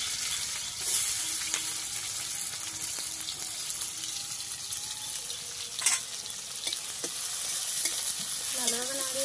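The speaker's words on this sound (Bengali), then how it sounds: "কড়াইতে তেল দিয়ে এনেছি, তেলটা গরম হয়ে গেছে। পেঁয়াজটা দিয়ে দেবো" Chopped onion frying in hot oil in a kadai gives a steady close sizzle, broken by scraping stir strokes and light clinks of the spatula against the pan, with no voices.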